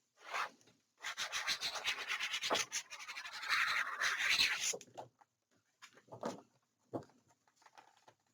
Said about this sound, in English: burnish it down